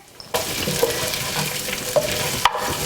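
A pan sizzles loudly and steadily as sliced onion drops in with frying garlic, with a sudden jump in frying noise and occasional stirring clinks.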